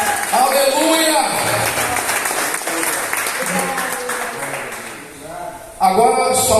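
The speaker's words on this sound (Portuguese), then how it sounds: "Um aplauso bem forte para mim." Church congregation applauding during a Portuguese-language worship service, with broad clapping under loud shouted preaching and cries from the leader throughout, a brief dip near the end before the noise swells again.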